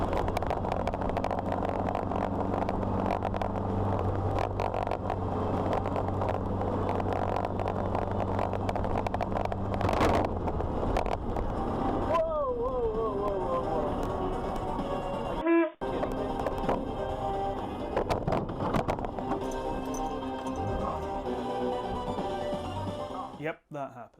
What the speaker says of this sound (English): The bonnet lifted up, ripped back, smacked into the car, and scared the living daylights out of me.